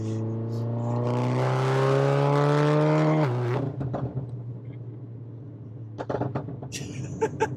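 Tuned stage 3 VW Golf R with a 500-horsepower engine in race mode, revving loudly and rising for about three seconds, then dropping into crackling, popping overrun bursts close by.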